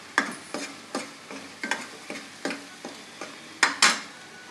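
Masala for a stuffed brinjal curry roasts in oil in a pan, with a faint fry underneath a regular series of spatula scrapes and clinks against the pan, about two per second, and no talk.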